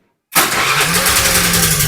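A Honda Vario 110 carburetor scooter starts abruptly after a short silence, the starter catching at once and the engine running on in a loud, steady, close idle with a faint rising whine.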